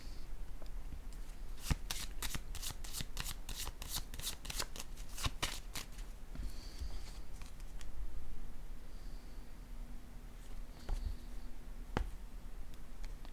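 Tarot cards shuffled and handled in a rapid burst of crisp riffling snaps, then slowed to a few soft slides and taps as single cards are laid down, close and clear with no talk.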